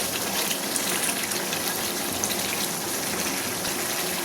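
Hot water poured into a pot of simmering dahi mutton curry, a continuous gushing splash heard alone at close range.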